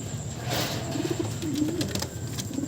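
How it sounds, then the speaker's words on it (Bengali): A male pigeon offered for sale coos in several soft, low rolling phrases, close by and fairly quiet over a background hum. "এটা হচ্ছে এটা নর পায়রা"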